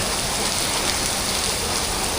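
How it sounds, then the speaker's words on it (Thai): Heavy rain pours onto a street in Siam Square, Bangkok, a steady, dense hiss close by with no pauses or voices. "เม็ดฝนมันโปรยปลายลงมา อย่างแจ่ม"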